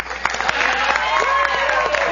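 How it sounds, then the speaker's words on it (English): A studio audience on a tech television show claps in a brief, steady burst of applause with sharp hand claps over a dense crowd wash, filling the whole moment. "Round of applause for Foo."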